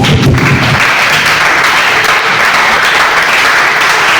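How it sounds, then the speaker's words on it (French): A church congregation applauding together, loud and close, a thick continuous wash of many hands clapping with no talk over it. "Nous applaudissons d'abord."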